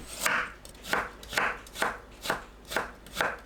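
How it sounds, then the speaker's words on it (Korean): A knife julienning carrot into fine strips on a board, seven crisp, evenly spaced chops in a steady rhythm, close and clear with no talking. "당근은 곱게 채 썰어줍니다"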